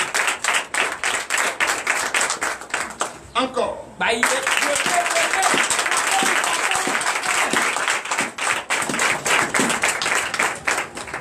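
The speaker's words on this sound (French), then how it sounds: "Donne l'acclamation à Jésus." A church congregation at a Sunday service in Benin claps for Jesus, loud sustained applause with rhythmic hand claps throughout, a brief pause midway where a voice calls out, then clapping resumes under speech and cheering.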